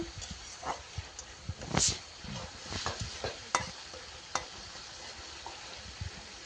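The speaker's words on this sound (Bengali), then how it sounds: "চিংড়ি মাছ দিয়ে ভালোভাবে নেড়ে চেড়ে নিচ্ছি।" Prawns sizzle softly in a pan while a utensil scrapes and stirs them in uneven strokes, with occasional sharper clinks and a faint, brief background noise.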